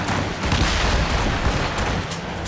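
Ship cannons firing in a naval battle in the video game Assassin's Creed Rogue, a dense barrage of overlapping booming shots and rumbling blasts, loud and continuous with no pause.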